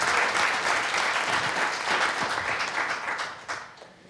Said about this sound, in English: let's have a huge round of applause for the panelists who are here